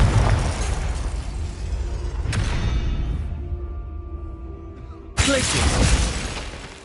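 Confringo explosive fire spell in a Hogwarts video game: a loud burst with a shattering crash, a second sharp blast partway through, then another loud eruption near the end, fading rumble between.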